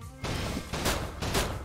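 Double shotguns in the video game Dungeon Munchies fire in a rapid series of three loud, noisy blasts, each a burst of crunchy impact sound over a steady background bed.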